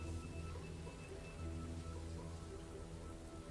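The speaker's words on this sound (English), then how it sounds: "And it begins to rain." Rain falls as an ambient effect in a tabletop role-play, a soft, steady hiss of drops on a surface, continuous and fairly faint, with no voices over it.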